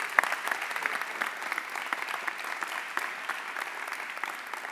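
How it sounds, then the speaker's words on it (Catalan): Audience applause at a Catalan conference day on artists' rights, a steady, dense clatter of many hands clapping at moderate volume, holding evenly for about five seconds with no talking. "rebeu amb un fort aplaudiment a la Vinyet"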